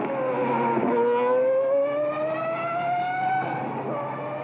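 Hot Wheels F1 Racer Series toy car rushing down a track, a loud, continuous engine-like whine rising steadily in pitch with layered harmonics, with no talking.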